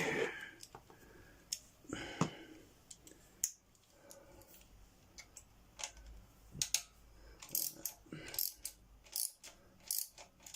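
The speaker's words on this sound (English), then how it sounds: "I need my socket set thingy." Ratchet clicks from a socket wrench loosening a wheel nut on a generator, heard as quiet, irregular bursts of rapid ticking with handling clatter and pauses between them.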